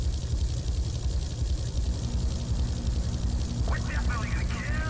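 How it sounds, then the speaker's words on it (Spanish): A helicopter flies in Grand Theft Auto 3, a steady, loud rotor and engine drone running the whole time, with a few brief chirping game sounds near the end. "no destruiré el helicóptero"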